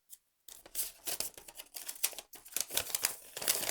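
A paper instruction leaflet for a Nextool Mini Sailor scissors-version multitool is handled close up, giving a run of crisp crinkling, rustling and flicking sounds after a brief silent start, with no talking.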